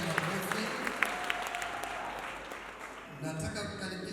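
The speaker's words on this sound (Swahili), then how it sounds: "tuwashabie makofi." Wedding guests at a church wedding applaud steadily, the clapping carrying on under a speaking voice with a brief swell near the end.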